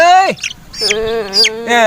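A chicken clucking and squawking loudly and close by in a series of drawn-out, wavering calls with short gaps between them, no talk over it.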